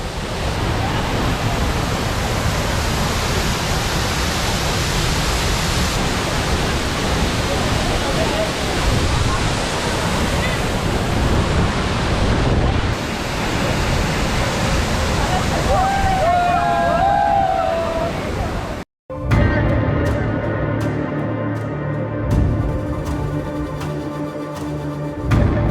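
Dhanagar waterfall in Badlapur pours down in a loud, continuous roar heard up close, with wind buffeting the microphone and a voice partly buried beneath it; after a sudden cut the rushing water turns noticeably quieter and more distant.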